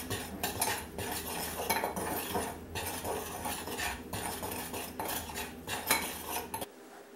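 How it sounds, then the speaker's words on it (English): Utensils scrape and clink steadily against a bowl as ground cinnamon is stirred into Christmas baking ingredients, close and continuous with no speech, stopping abruptly at the end. "And we just need to mix that up."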